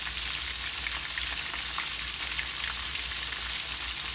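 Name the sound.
conch pieces frying in oil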